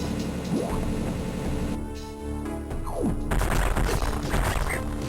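Missiles fired at a green boss in Metroid Fusion, a run of sharp game blasts and crashing booms over a busy, loud game soundtrack, with a burst of dense impacts in the final seconds.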